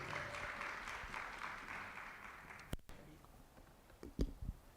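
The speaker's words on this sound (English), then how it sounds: "Clap her again, please." Audience applause for a presenter at an early childhood education professional development institute: a steady, fairly faint wash of clapping that fades out, followed by a few louder thumps and handling noises.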